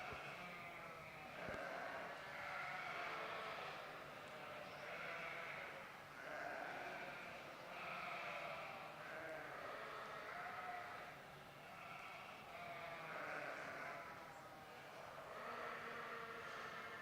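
Several sheep ewes bleat repeatedly at a breeding sheep show ring, overlapping calls rising and falling steadily over a continuous crowd and hall murmur.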